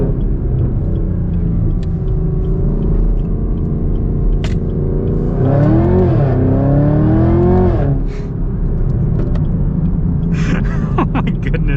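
A 2023 Chevy Camaro ZL1 rumbles at a steady low drone, then its V8 swells into a loud rising rev for a few seconds before dropping back to a deep cruising rumble.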